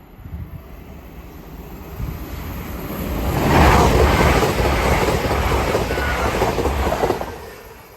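A TransPennine Express passenger train bound for Newcastle passes a level crossing at Hett Mill. The rumble and rushing noise build to a loud, sustained pass lasting several seconds, then ease off a little as the train continues by, with wind buffeting the microphone.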